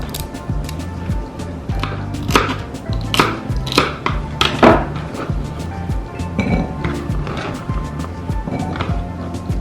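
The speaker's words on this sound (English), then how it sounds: "Cut the corn in two." Knife cutting ears of corn in two on a board while preparing beef soup, giving repeated loud, close chopping knocks and clinks at an uneven rhythm.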